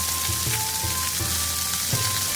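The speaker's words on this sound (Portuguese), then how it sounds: "vamos colocar todos os vegetais aqui na frigideira" Vegetables sizzle in a frying pan for yakisoba, a steady close hiss with soft irregular crackles throughout and no talking.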